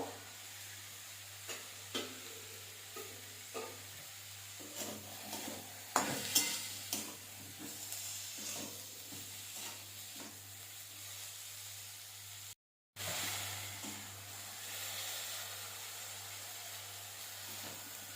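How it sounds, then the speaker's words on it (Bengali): Chicken mixed with vegetables frying and being stirred in a pan, a steady sizzle and hiss with scattered scrapes and clinks, fairly faint, with a brief cut near the end and no talk. "আমি এই সবজির সাথে চিকেনটা মিশিয়ে নেবো এবং ভেজে নেবো"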